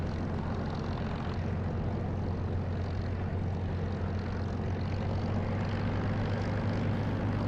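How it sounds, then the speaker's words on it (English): A propeller aircraft engine drones steadily in the DCS flight simulator game with an Echo 19 sound mod, a constant low hum running evenly throughout with no speech. "this is not the sound of the engine from DCS. This is Echo 19 and it's really pretty good."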